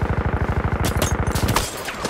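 Gunfire from a video game, where a sniper is shooting: a loud, steady burst of rapid shots, about a dozen per second, cuts off after about a second and a half.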